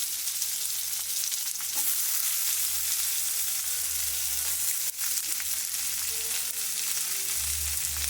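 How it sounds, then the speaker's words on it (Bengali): Vegetables sizzle steadily in leftover fish-frying oil, a dense continuous crackle and hiss close by with a few soft scrapes, and no voices. "আমি এবারে মাছ ভাজার তেলটায় সবজিগুলো সব ভেজে নেব"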